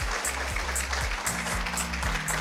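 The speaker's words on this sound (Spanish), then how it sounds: "Fuerte ese aplauso" A lecture-hall crowd at a parliamentary law class's final session applauds steadily, a dense continuous patter of clapping at moderate level, mixed with low voices, without pause across the moment.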